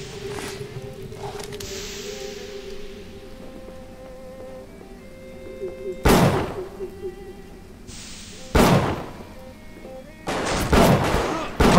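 Enemy gunfire in the video game Bioshock, several sharp, loud gunshot bursts cracking out at intervals over a low, steady game ambience and hum.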